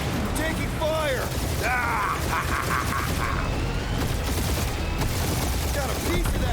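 Enemy gunfire in Marvel's Guardians of the Galaxy, a dense, continuous barrage of rapid shots and mechanical rattles, loud and close, mixed with game effects and voices.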